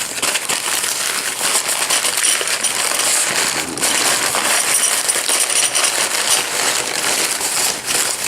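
A bag of metal push rods for a Viper engine being handled close up, a continuous crinkle of plastic with metallic jingling and clinking throughout.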